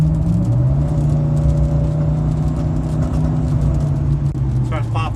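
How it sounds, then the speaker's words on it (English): A Chevrolet Silverado engine revs at full throttle, a loud sustained rising and falling drone with a few sharp popping bursts near the end. "Watch what happens when it goes to full throttle, full throttle."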